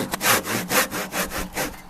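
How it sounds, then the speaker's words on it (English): Hand saw cutting narrow kerfs into timber for a timber-frame scarf joint, with about six rhythmic rasping strokes, close and loud, with no voices. "Now I kerf out pretty narrow when I'm doing this, and that's mostly so I'm only taking little bits at a time"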